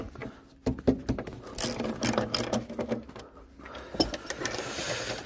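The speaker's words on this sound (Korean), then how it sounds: "자, 볼트부터 풀겠습니다." Bolts are loosened on a shoe cabinet being installed on an excavator, giving rapid ratcheting and mechanical clicking in uneven bursts up close, moderately loud with brief pauses.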